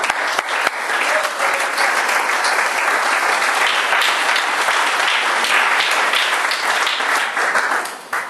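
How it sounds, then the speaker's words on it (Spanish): A church congregation breaks into sustained applause, loud and close, a dense wash of many hands clapping that holds steady for several seconds before tapering slightly at the end. "Den un aplauso, Señor."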